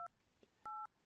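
DTMF dialing tones from a ShoreTel phone system trunk test tool: a short dual-tone beep, a faint click, then a longer steady tone pair, clean and close with no talk.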